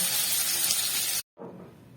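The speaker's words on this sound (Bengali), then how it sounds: "এখন আলুগুলোকে ভেজে তুলে নেব।" Potatoes frying in hot oil give a loud, broad sizzling hiss that cuts out abruptly for a moment, then returns softer and thinner.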